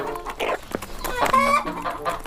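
A rooster crows and clucks in short, loud bursts close by, with harmonic calls rising and falling over about two seconds, no talking.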